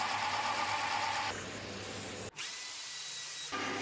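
A track saw cuts a lathe-turned wooden cylinder in half, running as a steady loud whine that shifts pitch partway through, stops abruptly, then starts again near the end.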